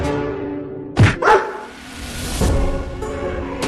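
A cartoon dog in a Hindi cat-and-dog story gives two sharp, loud barks in quick succession, followed by a softer yelp and brief background sounds, with no speech.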